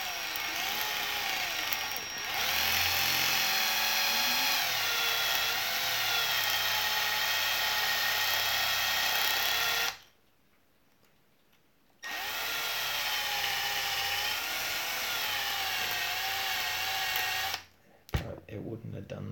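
An impact drill whines steadily in long bursts, stopping abruptly for a couple of seconds before running again, with people talking around it while working on cosplay escrima sticks.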